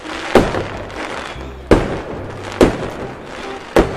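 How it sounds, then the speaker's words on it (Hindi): Four sharp explosive bangs from a cartoon firework rocket at irregular intervals, each a sudden loud crack with a brief decaying tail, like firecrackers or fireworks bursting. "बहुत बड़ा धमाका होता है"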